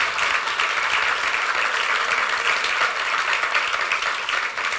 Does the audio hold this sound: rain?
no